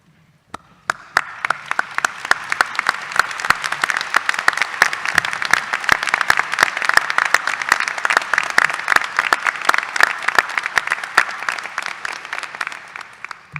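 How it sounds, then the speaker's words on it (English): A large audience at a 2022 dental school commencement gives graduates a long standing ovation, dense, crisp clapping that builds quickly and holds strong for over ten seconds before tapering at the end. "Please stand up and applaud our graduates' accomplishments"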